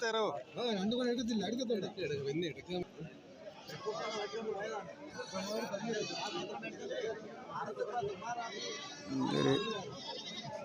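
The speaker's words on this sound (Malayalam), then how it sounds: "എല്ലാ സൈസ് ആടുകളാണ്" Goats at a busy goat market in Kerala bleat repeatedly, some near and some farther off, mixed into steady crowd chatter and people talking throughout.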